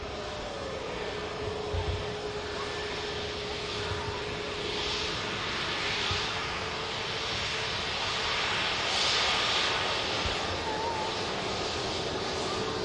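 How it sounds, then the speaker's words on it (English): A KLM Airbus A321neo taxies at Manchester Airport, its engines giving off a steady broadband roar with a faint whine that holds at an even level for the whole stretch and swells slightly toward the end, with no talk. "Just come back for the KLM taxiing past."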